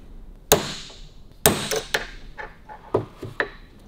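A steel punch is struck with a hammer against the tappet lifter of a WWII Harley WLA: about six sharp, ringing metallic blows at irregular intervals, close and loud, in a quiet shop.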